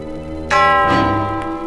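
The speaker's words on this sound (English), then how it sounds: "Then I prepared a slingshot and took aim at the mission bell." A mission bell is struck once by a slingshot shot, giving a sharp metallic hit followed by a bright, ringing tone that rises and hangs with a lingering hum.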